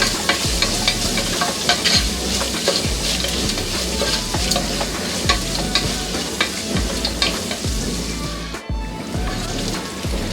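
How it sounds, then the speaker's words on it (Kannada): Chopped capsicum fries in oil in a pan for lemon rice. A steady, close sizzle runs throughout, broken by regular scraping and stirring strokes. "ನಿಮಿಷದಷ್ಟು ಇದನ್ನು ಎಣ್ಣೆನಲ್ಲೇ ಫ್ರೈ ಮಾಡ್ಕೋಬೇಕು."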